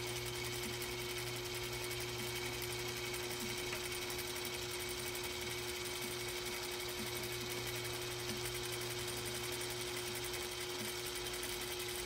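Sewing machine stitching a lace applique hem onto a bridal gown, running as one steady, continuous hum and needle chatter throughout, fairly quiet and with no talk.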